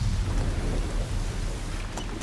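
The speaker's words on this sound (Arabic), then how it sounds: "انت بتمطر." Steady heavy rain roars with a deep low rumble of thunder underneath, a dense continuous wash of noise with no voices.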